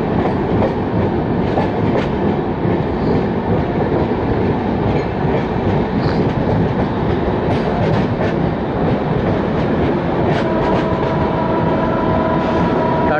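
Pune Duronto Express rolling past the Tatanagar loco shed, heard from on board as a steady loud rumble of wheels with rhythmic clickety-clack over rail joints and occasional faint squeals.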